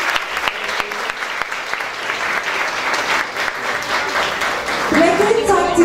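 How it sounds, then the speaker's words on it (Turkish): Hall audience at a hospital's 25th anniversary event applauding as a nurse is welcomed, steady clapping throughout with a voice talking over it near the end. "Hemşiremiz Sevgi Yeğil alkışlarla davet ediyoruz"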